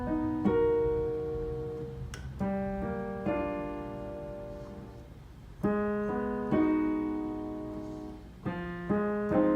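Solo piano chords ring out close and clear, each rolled upward from a thumb-struck lower note before the other notes follow, letting the chords sustain and decay between attacks in a slow groove.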